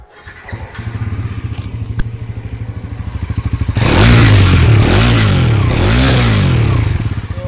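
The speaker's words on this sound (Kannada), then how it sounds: "ಬೇರೆ ಏನೇ ಹೇಳೋಕ್ಕಿಂತ ಮುಂಚೆ ಇದರದ್ದು ಎಕ್ಸಾಸ್ಟ್ ನೋಟ್ ಕೇಳಿಸ್ಲಿಕ್ಕೆ ಇಷ್ಟಪಡ್ತೀನಿ" A 2024 Bajaj Pulsar NS400Z motorcycle idles with a low, even exhaust burble, then is revved up into a louder, rising and falling roar over several blips, heard up close.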